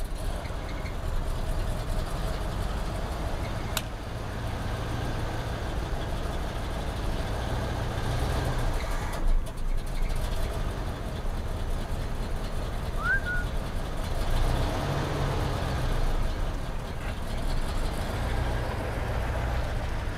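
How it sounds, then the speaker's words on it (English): The engine of a 1969 Cadillac Fleetwood, with a mechanical fuel pump and fuel poured into the carburetor, runs at a steady low idle throughout, close and continuous, with faint birds in the background and no voices. "Let me see if I can get it to stay running."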